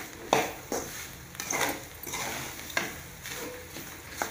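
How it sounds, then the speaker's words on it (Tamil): Roasted gram flour being stirred in a pan for pottukadalai barfi: a few sharp scrapes and metallic knocks of a spoon against the pan at irregular intervals, with softer shuffling in between, close and fairly quiet. "இது பொட்டுக்கடலை பர்பி இந்த மாதிரி நல்லா வறுத்துக்கோங்க"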